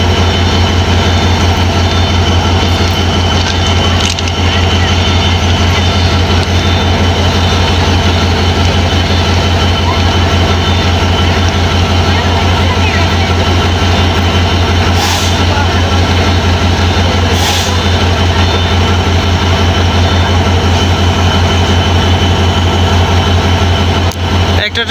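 A train at Joydebpur railway station getting ready to depart, with a loud, steady low engine rumble that fills the whole stretch and busy station noise layered above it.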